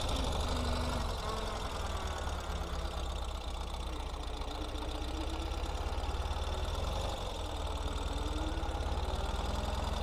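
A 2025 Ural Gear Up sidecar motorcycle with custom modifications runs steadily while riding and slowing down, a continuous low, knocking engine drone close by with no talk.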